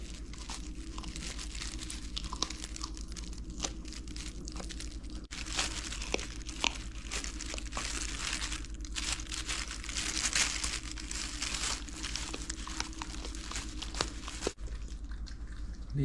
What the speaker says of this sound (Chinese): 他居然把一整个鸭头鸭脖都吃完了